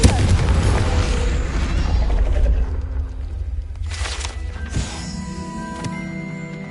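A Confringo blast spell bursts in the game Hogwarts Legacy, a heavy booming explosion that rumbles and fades into clattering debris and game sounds.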